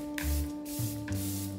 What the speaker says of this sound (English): every layer, I like to spray my face so that it's wet.